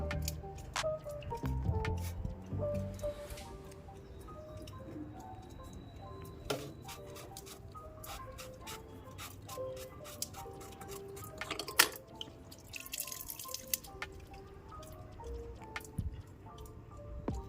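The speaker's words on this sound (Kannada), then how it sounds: "ಇಲ್ಲಿ ಓಪನ್ ಮಾಡಿದ್ರೆ ಕಂಟಿನ್ಯೂ ಲೀಕೇಜ್ ಆಗ್ತಿದೆ ನೋಡಿ ಒಳಗಡೆ ಫಿಕ್ಚರಿಂದ ರಿವರ್ಸ್ ನೀರು ಬರ್ತಾ ಇದೆ" Water leaks from a solar water heater fitting, making irregular small drips, ticks and wet squishes, close and quiet against a low background hum, with a few louder splashy moments near the end.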